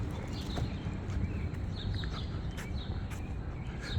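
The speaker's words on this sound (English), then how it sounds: "The birds are chirping." Birds chirp faintly at dawn in Astoria, Queens, near Kaufman Astoria Studios, with scattered short high calls over a steady low rumble of city traffic.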